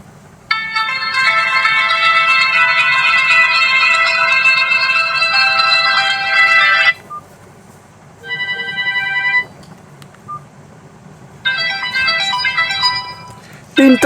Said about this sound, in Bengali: চলুন দেখা যাক যে রিংটোন কতটা সাউন্ড এই ফোনটিতে আমাদের দেয়